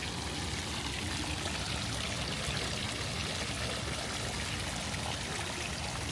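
A fountain in a resort courtyard splashes continuously, a dense, steady rush of falling and pouring water that stays loud and close throughout, with no voices.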